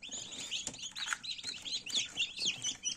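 Newly hatched chicks peep in an incubator, a busy overlapping chorus of high, thin chirps repeating steadily and close by, with no voices.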